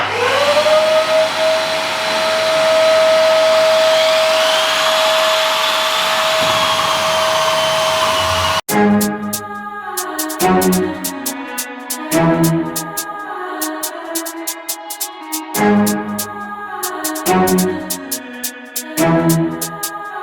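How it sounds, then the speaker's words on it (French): An Einhell giraffe drywall sander whirs with a steady high whine that rises in pitch, then cuts to busy rhythmic rattling and scraping on a ceiling over a continuous vacuum drone. "Et j'allume pareil l'aspirateur directement."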